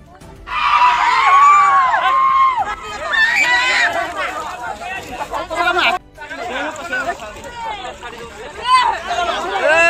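A crowd at a village pond shouts, screams and chatters loudly and continuously while catching fish, with several overlapping voices, including children's, close by.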